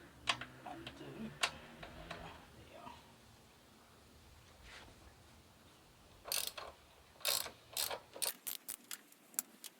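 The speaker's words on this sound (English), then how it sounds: "You take one bolt out, put the frame slider in, then go and do the other side." Ratchet wrench undoing a bolt on a Yamaha R7 motorcycle frame, a close run of quick sharp clicks in the second half after earlier softer clanks and handling noise.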